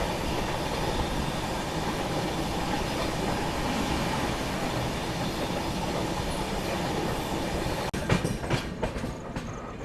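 The Pune Kolkata Humsafar Express rolls through Jalgaon station with a steady, loud rumble and the rhythmic clatter of its wheels, ending in a few sharper clanks near the end.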